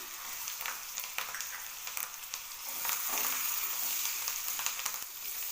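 Cashew nuts and curry leaves frying in a pan for ven pongal, a bright continuous sizzle with crackles and the scrape of stirring, swelling slightly midway; no one speaks.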